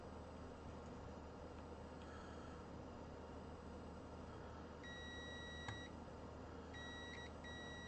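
Short electronic beeps in a small cluster, then another pair a moment later, sounding over a steady hum and background noise, from an Aura 5350 amplifier under power supply repair.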